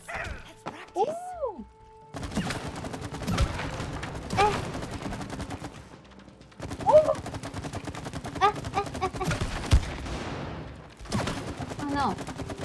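Repeated gunfire at shooting targets in the It Takes Two video game, sharp bursts in quick volleys over game music and effects, with voices talking throughout.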